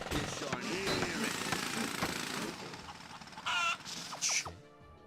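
Drilling in the video game Ratchet & Clank: Quest For Booty, heard as a steady mechanical jackhammer-like rattle that fades, followed by short clanks and whirs, under faint game voices.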